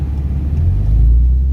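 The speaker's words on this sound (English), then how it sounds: "Traffic." Cars pass along a road on a hot evening as a loud, low engine rumble swells toward the end of the short stretch. The rumble carries no voices.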